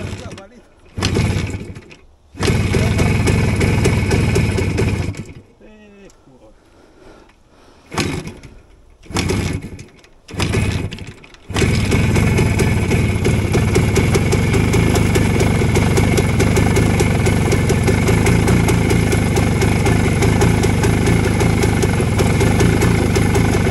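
A small engine idles and runs steadily, cutting out in a few short gaps early on before settling into a continuous drone.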